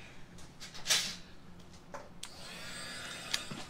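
A few brief rustles and clicks, then a blow dryer switches on and roars steadily and close at hand, drying chalkboard paint.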